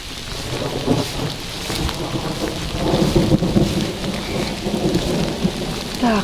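Heavy rain during a thunderstorm with strong gusty wind, a dense continuous roar of falling water and low rumbling, steady and loud with no voices.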